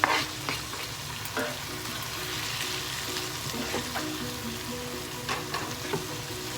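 Onions frying in a pan for a spicy eggplant curry dip: a constant close sizzle with intermittent scraping and clinking strokes of stirring throughout.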